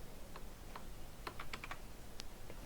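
Light clicks of a computer keyboard key presses sound faint and close, a scattered handful of ticks over a soft hum during Blender modding work.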